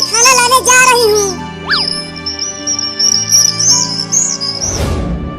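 A parrot gives a few quick high chirps, then a long, wavering whistled call that runs on steadily, loud and close, ending in a brief noisy burst.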